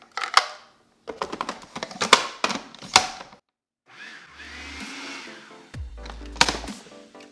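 A blender grinding sesame seeds into raw tahini, bursts of rattling, clattering whir that stop and restart, with a smoother steady run in the middle and a brief low motor hum.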